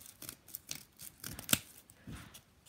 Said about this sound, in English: Then you are going to draw a candy corn shape and cut the candy corn shape out.